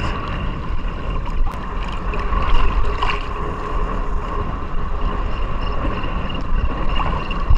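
A fishing boat's engine drones steadily over the water, with wind and lapping water noise blending into a constant, moderately loud hum.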